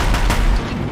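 Deathbringer war machines firing in the Horizon Zero Dawn video game, a loud booming barrage of heavy shots and blasts rumbling continuously for under a second, close and dense.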